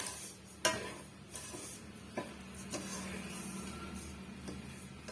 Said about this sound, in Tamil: நான் இது கூடவே வந்து நான் கிளறி கொடுத்துக்கிறேன்